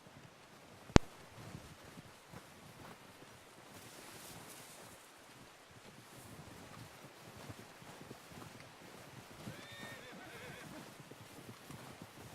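A horse in Red Dead Redemption 2 gives a loud whinny early on, then plodding hoof clops and soft outdoor ambience carry on underneath.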